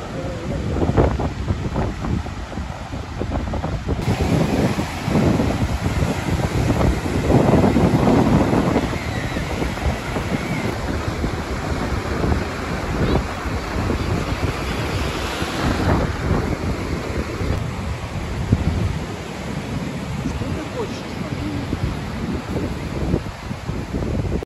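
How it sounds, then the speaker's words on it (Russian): Baltic Sea waves washing onto the shore near Kaliningrad under steady wind buffeting the microphone, a continuous loud roar of surf with swelling surges and no voices. "Балтийское море. Baltic Sea."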